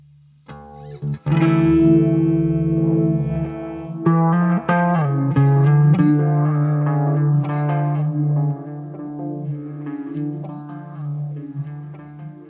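Electric guitar notes ring out through a long delay set to maximum time with added feedback, repeats stacking and trailing into a washy, echoing tail with some distortion.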